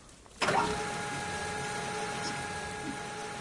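A truck engine in a driving video game runs at a steady idle after a sharp start, a constant mid-range drone with faint tonal whine holding near and loud throughout.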